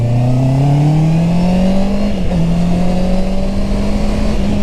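A loud Honda CB650R motorcycle engine holds a steady drone in second gear and slowly climbs in pitch as it accelerates, with a short dip partway through before it rises again.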